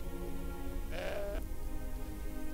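A cartoon goat in the point-and-click adventure game Deponia Doomsday lets out a single short, loud bleat midway through, standing alone over a steady game background hum.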